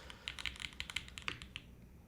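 Rapid typing on a custom full-size mechanical keyboard with Oil King switches on an aluminum plate, grommet or gasket-style mounting: a close, crisp run of clacky keystrokes in an irregular rhythm, heard alone with no talk.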